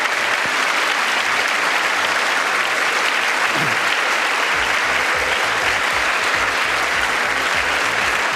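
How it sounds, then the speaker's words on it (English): Sustained applause fills a large chamber during a speech by Joe Biden, a dense, steady roar of many hands clapping from start to finish, with no voices standing out. "How is Mike Johnson not standing up and applauding?"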